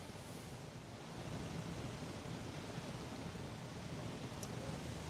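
Steady broadband wind roar at an outdoor spot during the landfall of Alfred, no rain falling, a constant rushing wash that swells slightly after the first second and holds without pause.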